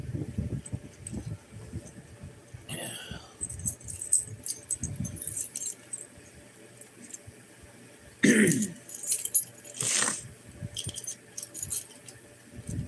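A set of keys jangles in short metallic bursts, one near the start of the middle and a louder shake later, amid quiet room noise and an occasional cough or throat clearing.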